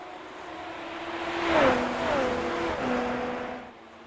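Super Formula single-seaters in a sim racing league at the Canadian Grand Prix, with a high-revving engine whine that swells, shifts pitch as a car passes close by, then fades, over a faint background hum.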